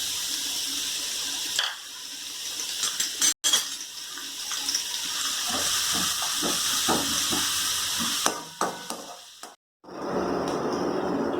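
Chopped large onions hit hot oil in a pan for Chettinad chicken sukka, giving a steady loud hiss and sizzle with a brief dropout and later crackling bursts.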